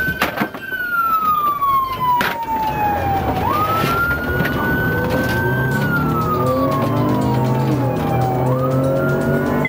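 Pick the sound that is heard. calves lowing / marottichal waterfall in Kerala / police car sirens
police car sirens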